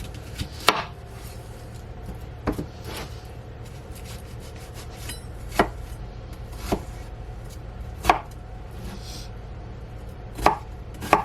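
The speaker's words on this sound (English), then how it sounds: "Right, I'm chopping garlic." Sharp knife chops on a cutting board as garlic is chopped, about nine isolated strikes spaced irregularly over a steady low kitchen hum.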